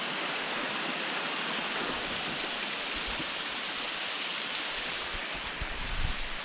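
Creek water flowing steadily along a hiking route, a continuous broadband rush with no breaks, close and even in level, with no voices.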